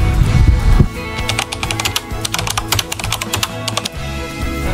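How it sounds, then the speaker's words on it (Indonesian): Quick bursts of keystrokes on a computer keyboard used for 3D architectural CAD drawing, clicking in uneven clusters at close range after a heavier thump at the start, with no talk. "hanya tinggal menggunakan mouse dan keyboard untuk menggambar desain 3D"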